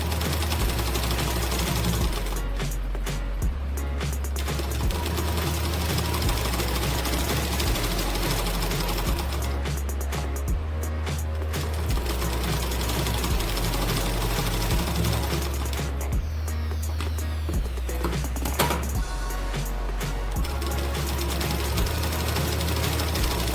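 Electric sewing machine stitching along the border of a blouse, a fast rattling run of needle strokes in several long bursts separated by brief pauses, close and loud.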